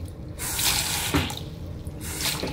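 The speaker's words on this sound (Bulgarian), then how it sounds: "Чешма. Тече." Water runs from a tap into a sink in a splashy, hissing stream, close and fairly loud, surging and easing a few times with no talk.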